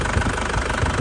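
A warm 2004 Isuzu Panther LS Turbo diesel engine idles steadily, giving a close, even rumble with a light rhythmic knock and no break or change in pace.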